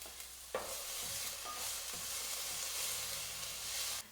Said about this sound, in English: I can hear some sizzling sounds